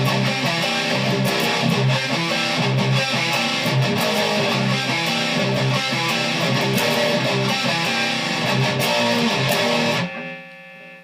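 Distorted electric guitar plays the opening riff of a song in drop C tuning, loud and dense throughout, then cuts off abruptly near the end, leaving a faint ringing tail.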